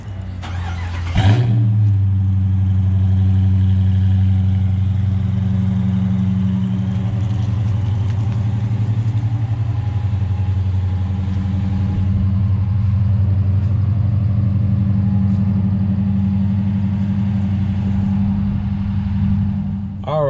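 A Dodge Charger R/T V8 starts cold with a sharp crank and flare, then settles into a loud, steady, deep idle rumble that holds close and unbroken for the rest of the stretch.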